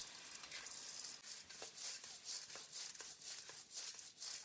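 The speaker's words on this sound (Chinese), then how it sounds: "开大火炒一下。" River snails hiss and crackle as they stir-fry over high heat in a wok with spicy perilla sauce, a steady bright sizzle broken by short scraping stirs and rattles, close and continuous.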